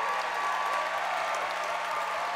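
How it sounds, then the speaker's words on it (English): An audience at a school awards event claps for assistant principals and principals, a dense, even round of applause that holds throughout without speech. "Give them a great round of applause."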